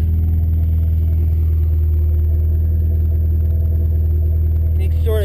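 Car engine with a lopey aggressive cam idling high right after a cold start in snow, a loud steady rumbling throb close by with an uneven choppy pulse, then a brief rise at the end.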